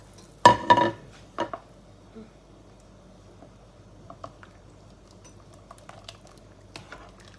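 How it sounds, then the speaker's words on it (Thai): Shrimp balls drop into a pot of clear Thai soup made with a stock cube, with a few sharp clatters of utensil against pot up front, then quieter scattered taps of stirring. "เดี๋ยวปุ้ยก็จะ เอาลูกชิ้นใส่ลงไปเลยเนาะทุกคนชิ้นกุ้งนะคะ"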